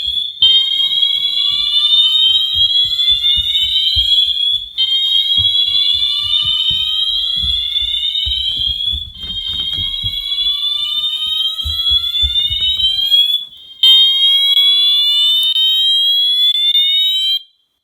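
A building fire alarm system test: a loud, repeating electronic tone that rises in pitch, sounding in four long cycles with brief breaks between them and a faint low rumble underneath.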